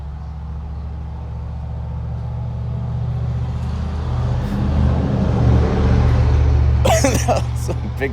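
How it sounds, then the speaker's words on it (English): A big truck passes by with a deep, swelling engine rumble that builds to a peak and then eases, loud and close, with talk starting near the end. "That's a big truck."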